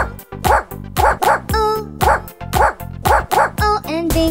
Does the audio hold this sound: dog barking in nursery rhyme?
yes